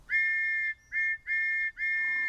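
Thomas the Tank Engine sounds his steam whistle in a French-dubbed cartoon, four bright, clear toots with short gaps between them, the second one brief, loud and alone against a quiet background.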